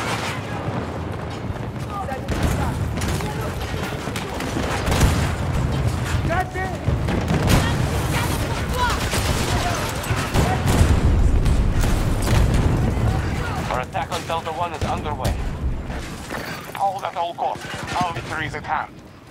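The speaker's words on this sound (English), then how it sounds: "Gun fire." Gunfire and explosions rattle through a Battlefield 2042 match on the Flashpoint map, with repeated shots, booming blasts and grenade detonations, overlaid by frequent talking.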